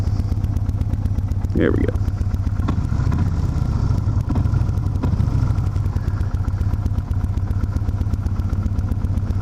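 Cruiser motorcycle engine idling steadily in neutral after a shift, a continuous low rumble with a few clunks, while someone speaks briefly nearby.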